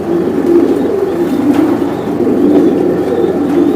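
Imported racing pigeons at a loft coo steadily in low, throaty rolls, several birds overlapping close by with a constant murmur and no voices.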